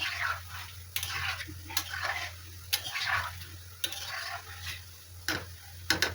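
Soft, steady sizzling of gulab jamun frying slowly in oil, punctuated by occasional light clicks and taps, with no one speaking.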